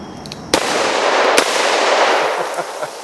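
A launcher fires a 2-liter bottle with a sharp pop, then a second burst follows, and a steady rushing spray trails after like water sprinkling down, with faint small knocks near the end.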